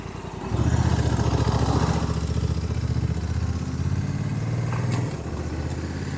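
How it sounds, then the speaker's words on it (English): A Honda NT1100 motorcycle engine climbing a steep hill road, a loud, steady close-up drone with a rapid pulsing throb that eases off slightly near the end. "I've never taken this bike up here, Swan."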